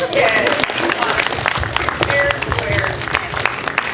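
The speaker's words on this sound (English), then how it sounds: "let's give a round of applause to Mr." Audience applause at a dinner theater fundraiser, broadband clapping sustained across the clip with some voices and cheers mixed in, fairly loud and close.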